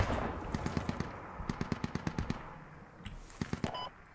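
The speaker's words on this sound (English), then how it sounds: "Shots coming from approximately 120 from my position on that hill" Rapid bursts of rifle fire in the Squad military shooter game, sharp cracks in quick strings with short gaps, fairly close, echoing off an open hilly landscape, no speech.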